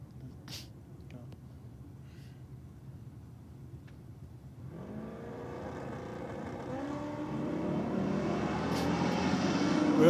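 Holden Torana and a Ute launching side by side at a drag racing championship round in NSW: quiet at first, then engines roar in around the midpoint, revs climbing and growing steadily louder as the cars pull away.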